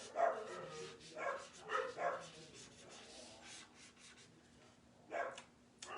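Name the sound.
dogs barking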